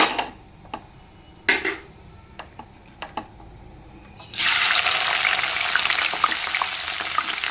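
Onions dropped into hot peanut oil in a pan for a mutton drumstick curry: after a few light clinks, a loud, steady sizzle erupts and continues close up without talk.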